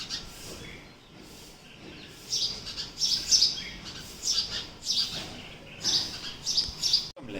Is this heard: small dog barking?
no